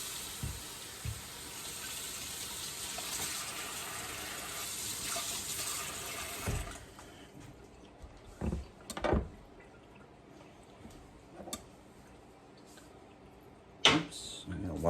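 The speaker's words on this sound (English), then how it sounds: "let me rinse off my cutting board." Tap water runs steadily into a kitchen sink while a cutting board is rinsed during home meal-kit cooking, a continuous hiss for several seconds that stops, followed by scattered knocks and clatters of the board and dishes.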